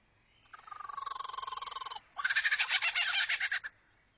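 A lyrebird mimics a kookaburra's laughing call in two close bursts: a rapid rolling chuckle followed by a louder, harsher cackling run, clear and alone against quiet surroundings.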